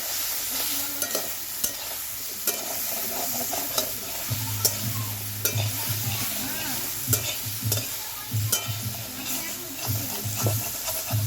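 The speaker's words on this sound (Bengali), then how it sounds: "আমি এখন তরকারিটা রান্না করি। হালকা করে একটু জল দিই, মশলাটা পুড়ে যাচ্ছে এই জন্যে।" Curry spices frying in a pan while a splash of water is added to keep them from burning. A steady, close sizzle runs throughout, broken by sharp scraping clicks as the mixture is stirred.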